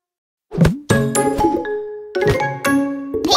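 A bright ding-dong chime from a cartoon children's song sounds twice, each pair of ringing tones decaying over a moment, clear and close with no voices.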